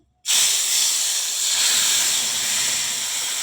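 Spice paste of cumin and coriander powder mixed with water, dropped into hot oil, erupting in a sudden loud sizzle that holds as a steady, close hiss for about three seconds.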